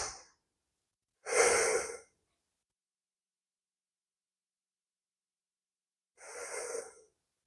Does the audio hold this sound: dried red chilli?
no